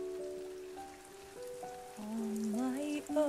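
Artificial rain on a film set patters steadily as a soft, hissing wash, with quiet sustained sung or musical tones drifting above it.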